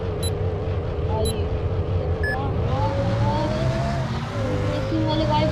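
Toyota Supra engine revving in the Demolition Derby 3 video game, a loud continuous buzzing roar with rising and falling pitch as it accelerates and shifts, with brief chime-like game sounds early on.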